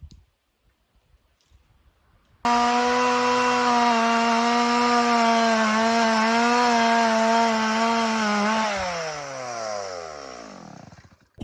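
A chainsaw cuts through wood for a building foundation, starting abruptly and roaring close and loud for about six seconds before the engine note sags and winds down.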